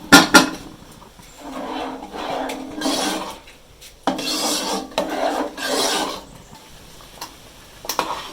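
Thickening mixture stirred in a pan, repeated rasping scrapes of the spoon against the bottom in slow rhythmic strokes, close and loud, no talk.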